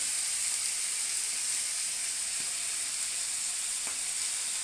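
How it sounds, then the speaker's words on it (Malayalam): Curry leaves dropped into hot oil for a Kerala okra curry (vendakka mappas), giving a steady, bright sizzle that fills the whole stretch with faint stirring ticks, no voices. "നമുക്ക് കരിയാപ്പില ഇടാം."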